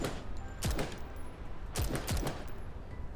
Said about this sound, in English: Two gunshots ring out, and the communicator bears two smoking bullet holes.